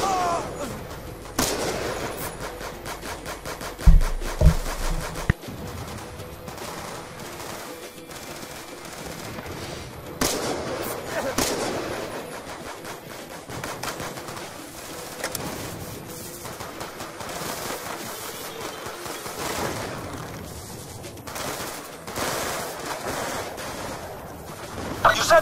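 Video game gunfire while shooting enemies: rapid bursts of automatic fire and scattered single shots spread across the clip, loudest in a short cluster near the start, mixed with lower battle noise.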